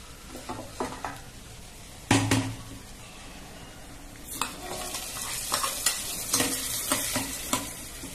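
Hot tempering stirred into a brinjal tomato curry in a pan, a sharp burst of sizzle followed by repeated scraping and clinking of a spoon against the pot under a constant frying hiss.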